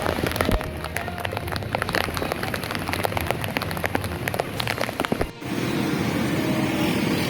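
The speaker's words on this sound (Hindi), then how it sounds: "almost cloud burst type condition के बरस रही है बारिश" Heavy rain pours in Karachi during a near-cloudburst downpour, a loud, dense, continuous hiss of drops drumming on surfaces, with a brief dip before the roar resumes, no voices.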